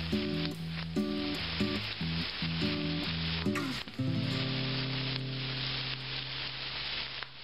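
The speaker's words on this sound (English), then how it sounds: "We're going to give this time to fry on up." Meat for beef or pork enchiladas frying in a pan, a continuous sizzle running under music with a repeating pattern of tones, steady and moderately loud.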